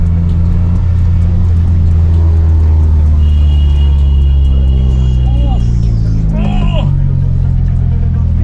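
A loud Honda Accord engine drones deep and heavy while driving, swelling with revs as the car moves, with voices talking over the rumble.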